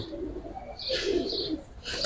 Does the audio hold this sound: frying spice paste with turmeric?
no